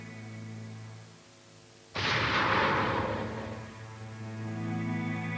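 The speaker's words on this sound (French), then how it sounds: "Un coup de feu avait été tiré de l'autre côté de la rue." A single gunshot fired from across the street outside a motel, one sharp loud crack followed by a decaying echo about two seconds long, over a sustained low droning tone.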